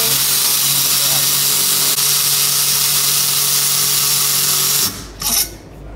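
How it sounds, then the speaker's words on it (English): A Milwaukee cordless power ratchet drives a bolt with a loud, steady motor whine for about five seconds, then winds down with a brief clatter. "So with our new ratchet, this is a lot easier. Let me quickly demonstrate it."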